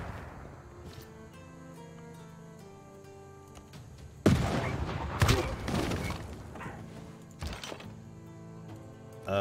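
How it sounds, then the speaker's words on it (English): Naval bombardment in Civilization VI: Gathering Storm, first quiet interface ticks and clicks, then a sudden loud burst of heavy booming impacts and rumbling explosions that fade and flare again. "let's see if I can continue bombarding this"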